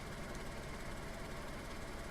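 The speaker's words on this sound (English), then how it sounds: "So let's start the engine." An off-road car engine in the video game DayZ runs with a steady, even rumble at moderate level, with no voices over it.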